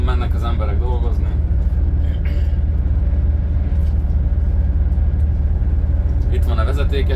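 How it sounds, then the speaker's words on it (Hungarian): Morning commuter road traffic: a steady, close, deep engine rumble of passing cars and heavier vehicles runs without a break, with no talking. "Reggeli forgalom, mennek az emberek dolgozni."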